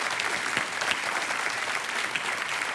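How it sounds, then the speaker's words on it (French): A television studio audience on a French game show applauds a contestant, an even, sustained roar of many clapping hands heard alone. "On vous applaudit."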